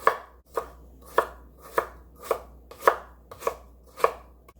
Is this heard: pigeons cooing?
no